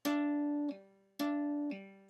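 Acoustic guitar tapped notes played by lifting the finger off rather than pulling off, two sustained tones each dropping to a weaker lower note, quiet and isolated.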